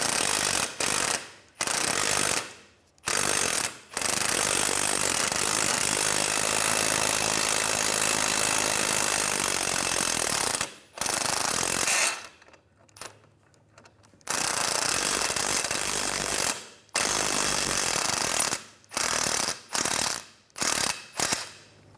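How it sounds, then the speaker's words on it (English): A ratchet wrench removing the nut and link bolt on the rear suspension of a 2007-2012 Nissan Altima, loud close clicking in long bursts separated by short pauses, no talking. "Remove the nut, remove the link bolt."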